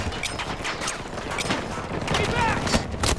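Suppressed MTAR rifle gunfire in a video game, fired with a heavy suppressor in steady rapid bursts. The shots are dense and continuous across the whole stretch, with clattering mechanical clicks, and a voice talks faintly underneath.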